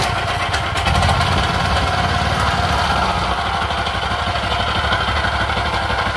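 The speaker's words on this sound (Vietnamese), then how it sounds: "bây giờ sau đây mình cũng xin test máy luôn cho anh em xem nha" A used Japanese Mitsubishi GM engine is test-run on its own, giving a steady, loud, continuous running note with no talk over it.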